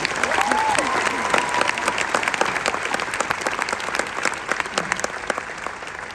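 A large commencement crowd at Columbia College Chicago gives loud, sustained applause for the Commencement Choir and jazz ensemble, a thick wash of close clapping with a whistle or cheer rising through it.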